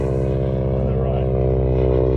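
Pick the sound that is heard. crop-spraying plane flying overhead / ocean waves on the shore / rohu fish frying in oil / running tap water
crop-spraying plane flying overhead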